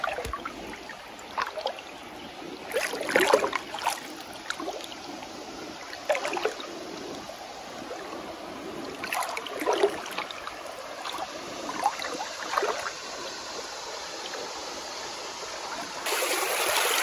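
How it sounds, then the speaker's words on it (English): Shallow stream water spills over rocks at the bottom of a small riffle in a Georgia creek, a steady close trickle and gurgle with a few brief splashes and louder bursts, no voices. "the bottoms of these little riffles like this where the water is spilling over all these rocks"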